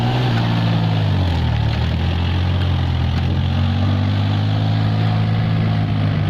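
A tractor engine strains while ploughing heavy mud, a loud continuous low rumble whose pitch dips briefly before settling into a steady labouring drone.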